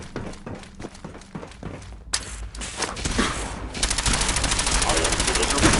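Automatic gunfire in a video game with a Brotherhood of Steel theme, loud rapid bursts that merge into continuous rattling fire toward the end, with some game voices mixed in.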